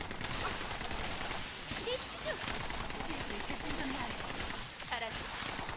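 Rapid continuous gunfire from the Fallen Hope weapon in The First Descendant, a dense, loud burst of shots with explosions mixed in, under a voice talking.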